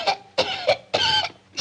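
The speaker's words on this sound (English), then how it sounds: "Smoke pours into the room. She starts to cough." A girl coughs repeatedly as smoke fills a room during a house fire in a 1949 film, four harsh close coughs in a broken rhythm with brief gaps between them.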